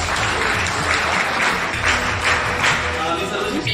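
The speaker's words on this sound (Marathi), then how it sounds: "जोरदार टाळ्या" A crowd gives loud, sustained applause at a retirement felicitation ceremony for a college principal, with dense clapping in swelling bursts and a voice faintly audible beneath it.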